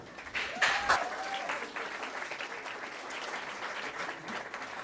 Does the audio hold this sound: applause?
yes